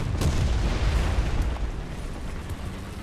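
A heavy explosion in the tank game War Thunder, set in a realistic battle on an Eastern European map, rumbles loud and deep right from the start, then settles into a long, dense roar that slowly fades with no talk over it.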